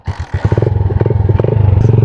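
A custom tracker-style TMX 125 Alpha motorcycle with a few clattering kick-start strokes, then the single-cylinder engine catches and settles into a loud, close, rapid, even putter outdoors at sunset.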